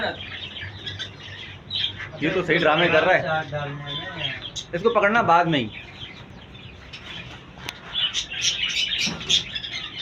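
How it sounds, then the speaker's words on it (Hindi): A runaway parrot squawks and screeches loudly in bursts, with brief wing flapping, while people talk and shout nearby trying to catch it. "ये तो तोते का शगुल शुरू हो गया।"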